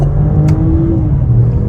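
A 2024 BMW X6 xDrive40i accelerates hard from a standstill in sport mode, a steady low droning roar with rising pitch, loud and close, with no talking.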